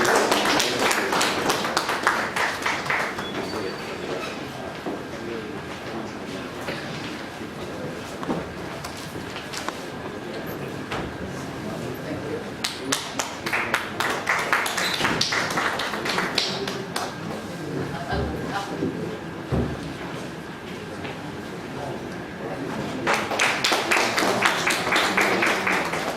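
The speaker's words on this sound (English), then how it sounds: "Can we have a round of applause for the speakers?" Seminar audience applauds the speakers, with sparse clapping that thickens into bursts of loud, close hand claps and fades between waves, over faint room murmur.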